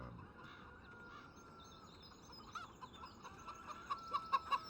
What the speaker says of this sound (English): Here, there's the chickens.